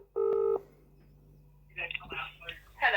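A single short telephone dialing tone beeps clearly at the start, followed by quiet line hiss and then a voice answering over the phone.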